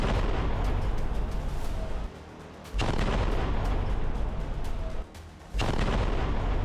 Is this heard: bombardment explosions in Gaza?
yes